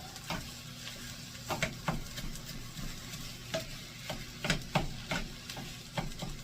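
Ground beef for sloppy joes mincing and frying in a pan, a soft sizzle broken by repeated scraping, chopping stirs from a spatula in an uneven rhythm, close and moderately quiet, no voices.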